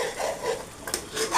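Grated coconut cooking down in a pot for Jamaican coconut oil, stirred with a soft scraping, rubbing motion over a faint sizzle, close and fairly quiet.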